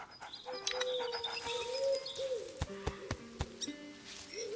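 A puppy in the video game A Plague Tale: Innocence whimpers and yips in high, thin whines and short squeaks, fairly faint, over a soft outdoor ambience with occasional sharp clicks.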